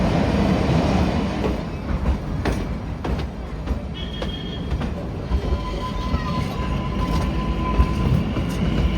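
The Shimla toy train runs on its rails near Summer Hill, a continuous close rumble of wheels with scattered clicks and a thin metallic squeal, steady for several seconds with no talking.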